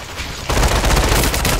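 Rapid gunfire in the VR battle royale game Population: One, fired by a player perched in a tree, erupts suddenly as a loud, close burst of repeated shots after a brief quieter lead-in.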